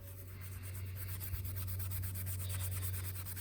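Scotch-Brite type abrasive pad scrubbing the intake valve of a Harrington 110v rail generator under repair, a steady close rubbing scrub over a constant low mains-like hum.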